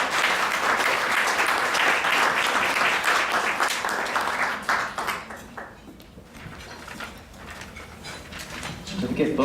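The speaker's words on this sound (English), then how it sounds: "Let's give a warm round of applause for Anna Soong" Indoor audience applause for a high school poetry contest winner, loud and dense at first, then thinning and fading slightly midway before swelling again toward the end.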